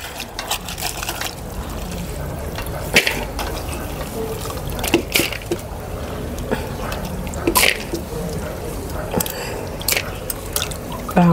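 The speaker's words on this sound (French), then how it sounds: "Je vais rincer le bissap." Dried hibiscus flowers (bissap) being rinsed in water: steady sloshing and dripping close by, with a few sharper splashes and trickles throughout and no talk.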